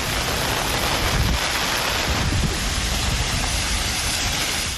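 Heavy rain pours in Pudukkottai district, Tamil Nadu, a loud, dense, continuous hiss with low rumbling underneath and no voices.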